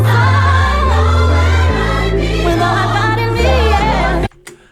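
A sample, shortened, sped up and pitched slightly higher, plays as a dense loud loop of a high voice over shifting bass notes, then cuts off abruptly near the end.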